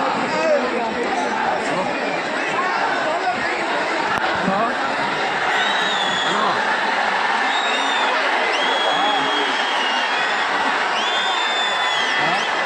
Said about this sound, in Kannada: ಇದೀಗ ಜೋರಾದ ಚಪ್ಪಾಳೆಯ ಮುಖಾಂತರ ಅವರನ್ನ ವೇದಿಕೆ ಮೇಲೆ ಬರಮಾಡಿಕೊಳ್ಳೋಣ